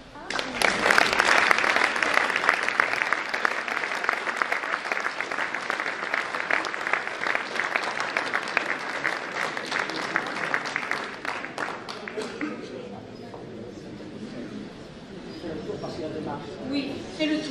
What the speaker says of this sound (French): il va falloir qu'on l'applaudisse longtemps le temps qu'il vienne